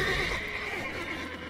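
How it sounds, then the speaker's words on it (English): A horse in The Witcher video game gives a short, fairly faint whinny, heard alone. "Caballo."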